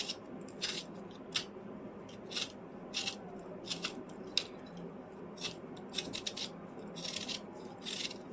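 Potatoes for a vegetable curry are peeled by hand in quick, rhythmic scraping strokes, a dozen or so short bright rasps repeating close by over a quiet room background.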